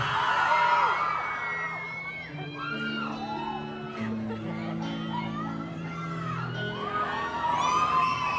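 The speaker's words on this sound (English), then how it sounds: "I better hear everybody singing it" A concert crowd at a Boston arena show sings along in unison and whoops and cheers loudly throughout, a dense wall of many voices carrying the melody close to the microphone.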